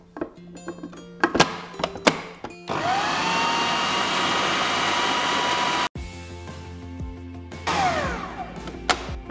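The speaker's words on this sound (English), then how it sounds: "lid back on and keep blending" Blender mixing chocolate avocado cake batter: a few knocks and thunks as the lid goes on, then a loud steady roar for about three seconds, a cut-off, and the motor starting again.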